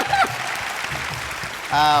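An audience claps briefly during a stage interview on a Malayalam show. The short burst of applause sits between bits of speech at the start and end.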